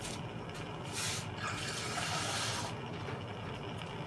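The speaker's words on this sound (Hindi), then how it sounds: "थोड़ा जा इसके अंदर पानी ऐड कर लेते हैं, थोड़ा सा चीनी मिक्स करने के लिए" Water pours steadily into a pot to dissolve sugar for mutanjan, a sweet rice dish. The rushing fill is close and fairly loud, briefly swelling and easing, with no talking over it.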